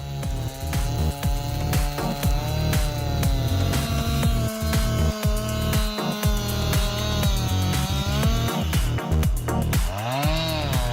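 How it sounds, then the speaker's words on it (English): A Legend chainsaw, 105 centimeters long, cutting wood, its engine droning loud and continuous with a rising and falling pitch and a brief rev near the end. "The Legend chainsaw, designed with precision engineering and cutting-edge technology, boasts an impressive length of 105 centimeters"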